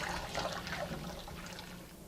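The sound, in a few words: kneading seitan dough in a bowl of water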